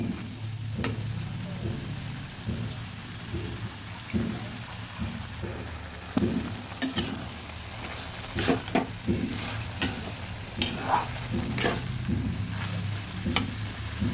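A spoon scrapes and stirs banana stem curry with nut paste in a sizzling pan, steady frying hiss underneath and a run of clinking, scraping strokes growing busier toward the end, with no talking.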